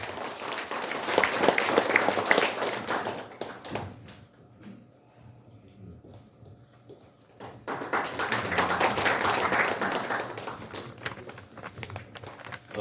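An audience at a Korean commemorative launch ceremony bursts into loud, sustained applause that fades to a quiet lull for a few seconds, then swells again into a second strong round of clapping, with faint voices and rustling in the pause.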